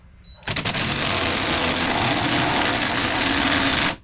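A wrench whirs in one steady, loud burst of about three and a half seconds while a new strut goes into a 2007-2018 GMC/Chevy 1500 pickup held down with a clamp.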